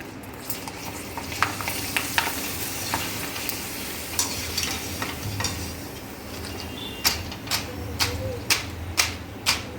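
Potato chips frying in hot oil in a home kitchen, a steady dense sizzle with crackles and popping, joined toward the end by a run of sharp regular taps, close and continuous without talk.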